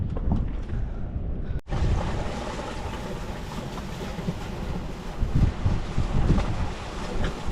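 Strong breeze buffets the microphone aboard a sailboat under way, a continuous roaring rush with gusting swells and water noise, loud and close, without talk.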